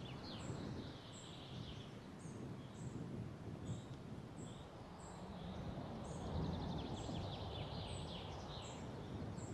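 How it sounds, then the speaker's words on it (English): Bird ambience in a game village scene built in Unity with FMOD, repeated high chirps and calls over a steady windy background bed, heard at a moderate distance and fairly quiet. "When that other wind comes in, I'll lower the bird sound and such."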